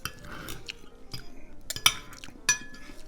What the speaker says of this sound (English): Look, I'm going to eat the asparagus tips now.